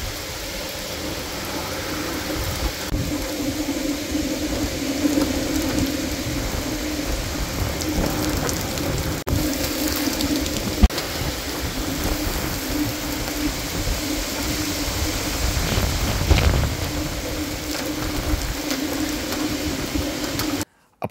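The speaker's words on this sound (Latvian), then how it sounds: "burtiski ūdens gāžas no debesīm lejā" Heavy rain pours down during storm Kirsti at night, a steady dense hiss that holds for the whole stretch with a faint low hum running beneath it.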